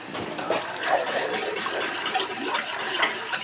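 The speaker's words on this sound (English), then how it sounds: "Whisk this up." A vinegar sauce tinted with ketchup being whisked in a pot, giving a continuous wet, rhythmic scraping and sloshing at close range, with no talking.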